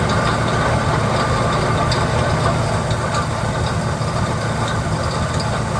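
The engine of a 1966 Ford Custom idles at about 800 RPM with the timing near 6 degrees, giving a steady, loud, even rumble that carries on without a break and with no talk over it.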